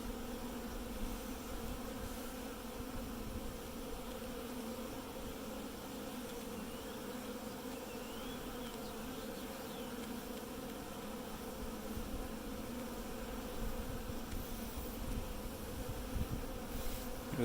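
A colony of honeybees hums steadily and continuously at the hive entrance, a close, even drone of many wings with no voices.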